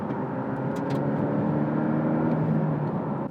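A 2024 Porsche 718 Cayman T accelerating hard toward high revs, its engine a steady, rising droning tone heard from inside the car, with no talk over it.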